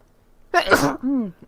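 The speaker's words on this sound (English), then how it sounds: "Hate it when I sneeze like that." A single sharp sneeze from a man, loud and close, bursting out alone after a quiet moment and trailing into a short voiced groan.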